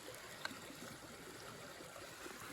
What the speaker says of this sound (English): Here we are, finally at the creek.